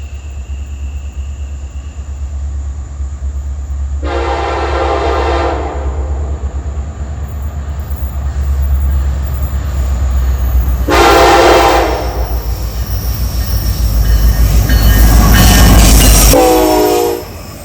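A long Norfolk Southern intermodal freight train rumbles steadily past up close on an S-curve, its horn blaring twice in long blasts, with wheel squeal and clatter building toward the end.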